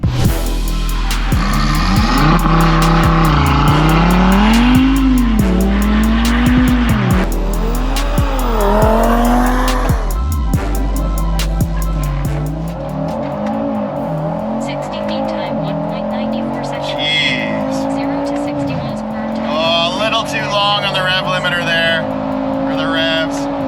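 An Audi RS3 8Y fitted with a JB4 tune and an E40-ish fuel blend accelerates hard, its engine note climbing through repeated gear pulls, loud and close, with a rising, droning tone later and tire noise.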